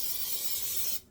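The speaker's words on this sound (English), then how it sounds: "now I'm going to spray mine with oil." A short, steady hiss of cooking oil spray misted onto homemade gluten-free bread dough, close and continuous for about a second before cutting off.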